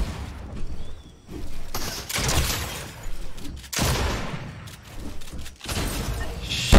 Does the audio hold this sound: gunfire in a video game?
yes